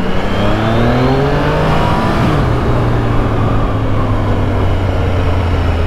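A motorcycle accelerates hard onto a highway, engine revving up through rising tones and a gear change, loud and close with rushing wind noise throughout and no talk.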